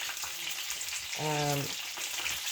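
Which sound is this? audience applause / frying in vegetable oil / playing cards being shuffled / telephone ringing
frying in vegetable oil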